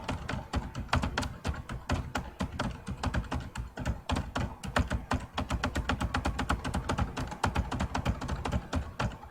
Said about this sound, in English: And I'm just typing cat.